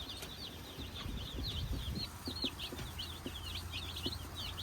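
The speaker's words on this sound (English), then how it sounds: "we have 52 healthy meat chicks" Many meat chicks in a coop, a dense chorus of high peeping and chirping repeated continuously over low rustling and shuffling, close and moderately loud, with no talk.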